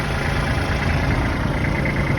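An old truck rig engine idles steadily up close, a loud, even rumble with no break for the whole stretch.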